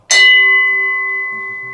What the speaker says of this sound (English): This is a Paiste effect symbol,